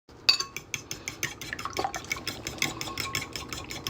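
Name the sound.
whisking eggs with hot sauce and heavy cream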